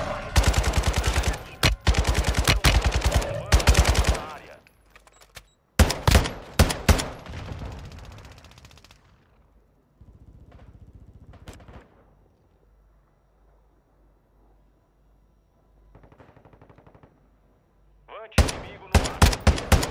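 Call of Duty Warzone 2.0 gunfire comes in loud, rapid automatic bursts, with quieter gaps and distant shots in between, before heavy firing returns at the end.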